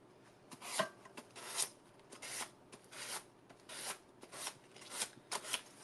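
A piece of sandpaper rasps in short, rhythmic back-and-forth strokes, a quiet, close scratchy rubbing repeated about a dozen times.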